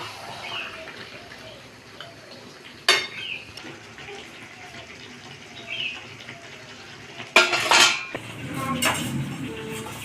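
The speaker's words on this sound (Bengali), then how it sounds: "এবার আমি ভালো করে মাংসটাকে কষিয়ে নেব" Goat mutton sautés in a pan as a utensil stirs and scrapes, with a few sharp clanks standing out over a low background sizzle and room noise.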